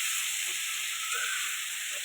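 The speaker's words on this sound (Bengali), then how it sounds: "কাঁকড়াটা লাল লাল করে ভেজে নিয়েছি" Crab pieces frying in hot oil for a spicy crab curry, a steady broadband sizzle holding evenly throughout with faint bubbling pops, close and continuous with no talking.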